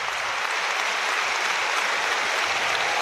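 A stadium crowd at a World Cup qualifying football match between North Macedonia and Wales applauds continuously, a dense, steady wash of clapping throughout.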